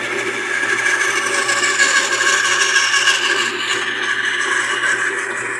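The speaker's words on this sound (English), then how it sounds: "So we're going to run this through the bandsaw." A bandsaw cuts wood guided along a fence, giving a steady whining drone with a rasping edge that holds evenly for several seconds, close and alone.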